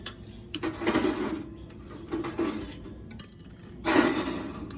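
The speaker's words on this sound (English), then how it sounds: "We're just gonna take all these jig heads, put them into the toaster oven." Small metal fishing jig heads clink and rattle as they are handled and set into a toaster oven, several light, bright clinks and taps in short bursts with quiet pauses between.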